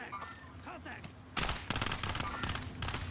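Call of Duty Warzone combat erupts into a burst of rapid automatic gunfire partway through, loud and sustained, after a stretch of quieter background noise and faint voices.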